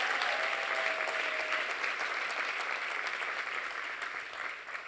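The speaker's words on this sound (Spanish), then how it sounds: "Dale un fuerte aplauso a Dios." A church congregation at a conference breaks into loud, sustained applause, a dense wash of many hands that fades slightly toward the end.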